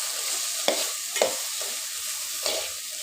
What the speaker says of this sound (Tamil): கலந்து கொஞ்சம் வதக்குற மாதிரி பண்ணிக்கணும்.